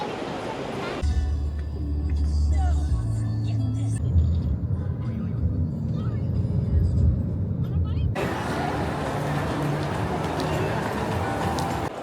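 Road traffic outside an airport arrivals area, with cars waiting to collect passengers: a steady, continuous rumble of engines and passing vehicles, fairly close, with a busy pickup-zone bustle running throughout.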